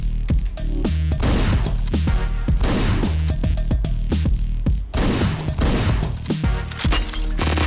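Rapid, dense bursts of gunfire from the top-down action video game Hotline Miami, loud and nearly continuous, with sharp shots crowding together in an unbroken volley.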